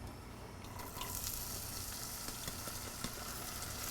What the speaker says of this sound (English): The first thing we're gonna do is we're gonna put these onions in here.